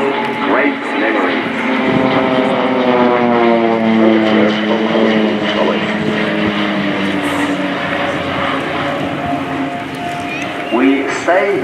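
A Swiss Air Force PC-7 propeller trainer roars through a flying display at an air show, its loud engine drone rising and falling in pitch as it passes, with a commentator talking over it.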